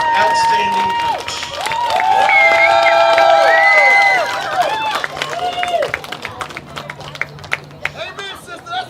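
A crowd at a college softball tournament cheers and claps for a coach receiving an award, with loud whoops and shouting voices at first that thin into scattered claps and chatter.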